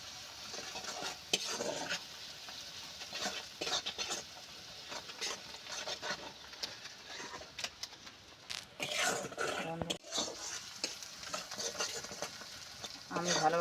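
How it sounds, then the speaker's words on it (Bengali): A spoon scrapes and stirs spices frying in a pan for a bitter gourd curry, giving quiet clinks and scrapes over a faint, steady sizzle. "এবার আমি মশলাটা ভালোভাবে কষিয়ে নেবো"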